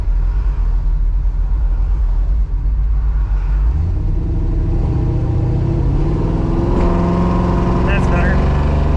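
A 1967 Chevrolet Nova V8 idling after its ignition timing was retarded, a loud steady low rumble close by that shifts into a rougher, busier tone partway through, with a faint pinging edge.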